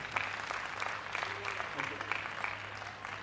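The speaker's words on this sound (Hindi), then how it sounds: "एक बार ताली बजा के कविता शुरू कर" Clapping from an audience at a Hindi comedy poetry recital, fairly soft and scattered, mixed with background murmur and a low hum.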